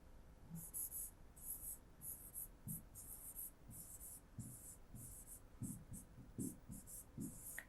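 Pen or pencil writing on paper in a school workbook, a run of short scratchy strokes and pauses at close range, fairly faint, with soft low murmurs of voice in the background.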